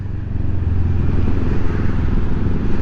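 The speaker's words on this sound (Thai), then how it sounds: "เฮ้ยท่ออะไรบึ้มบึ้มดิ ข้างหลังเนี่ย บิ๊กไบค์อะ" A big-bike motorcycle exhaust booms from somewhere behind, a loud, steady, deep rumble that fills the whole moment with no pause and no voices.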